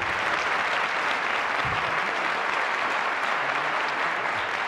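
Studio audience applause on a Turkish television game show, a dense, steady wash of clapping that fills the whole stretch at close, even loudness with no talk over it.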